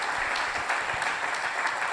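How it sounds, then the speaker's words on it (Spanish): A church congregation applauds steadily, a dense, continuous clapping from a crowd filling the room. "Denle un aplauso a la palabra de Dios"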